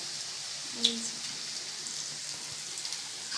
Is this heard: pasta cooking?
yes